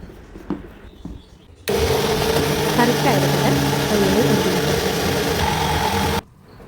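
A kitchen mixer grinds coconut with chilli powder, turmeric, curry leaves, tamarind and water. Its loud, steady whirring drone starts abruptly after quiet background sound, runs for about four and a half seconds, then cuts off.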